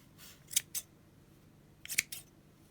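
Scissors snip through the looped threads of a handmade tassel, two close, crisp cuts, a pause, then two more, in a quiet room with no talking.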